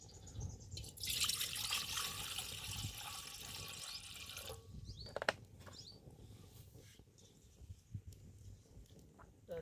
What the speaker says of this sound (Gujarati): તપેલામાં નાખી દીધી પહેલાં પાણી